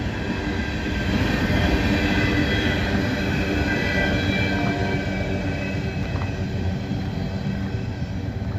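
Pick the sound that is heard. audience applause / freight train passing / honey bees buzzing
freight train passing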